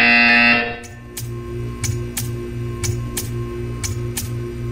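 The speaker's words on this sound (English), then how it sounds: "You will hear a buzzer." A loud electronic buzzer in the video game Portal 2 sounds briefly, then gives way to a steady series of soft mechanical ticks over a low hum.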